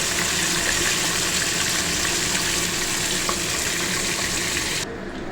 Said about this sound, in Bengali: সর্ষের তেল কড়াতে গরম করে নিয়েছি, এবার মাছগুলো ভাজবো